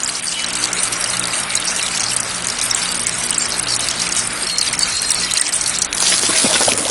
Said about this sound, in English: Here, water pressure is forcing the water jets in all directions.